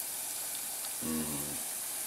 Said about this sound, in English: they sound like they're sizzling nice